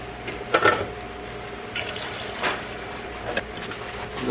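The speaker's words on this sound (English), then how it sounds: "and then you put the cold milk in it." Cold milk pours into a glass of iced coffee made with a Keurig K-Cafe, a soft, uneven splashing and trickle with a few louder gurgles, under low background hum.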